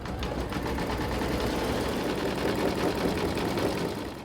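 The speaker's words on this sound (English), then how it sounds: "Attach the hoop to the machine and load the embroidery design." Embroidery machine stitching a design into linen held in a hoop, a steady, busy mechanical whirr with rapid needle chatter running continuously at close range.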